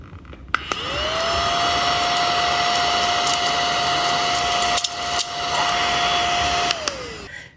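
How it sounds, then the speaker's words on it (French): A small vacuum cleaner whirs steadily and loudly up close, holding one high whining tone for about six seconds before spinning down, with no talking. "je sais pas si je peux aspirer quelque chose encore"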